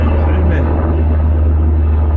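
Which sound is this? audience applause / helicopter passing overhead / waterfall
helicopter passing overhead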